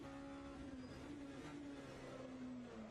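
Race car engine in the Le Mans Virtual game, a steady droning note dipping slightly as the car brakes hard into the Ford chicane, heard faint and distant throughout.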